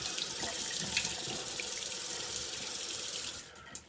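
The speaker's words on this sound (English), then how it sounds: "Do one final cold water rinse." Cold water runs from a bathroom tap into a sink for a rinse, a steady close splashing hiss that eases off near the end.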